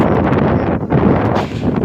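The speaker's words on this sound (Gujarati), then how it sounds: "જોઈ શકો છો વાયરો ખૂબ જ આવે" Strong wind buffets the microphone with a steady, loud roar, dipping briefly before gusting back up.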